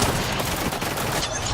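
Kraber sniper rifle fire in Apex Legends during an esports match, a dense, loud burst of gunfire that fills the short moment.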